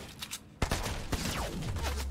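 Gunfire trading back and forth in a Fortnite match, with a sharp loud report after a quiet start followed by several more scattered shots over continuous game noise.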